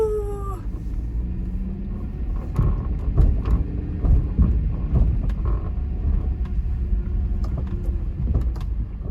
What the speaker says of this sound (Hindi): तो मैं चलाती हूँ गाड़ी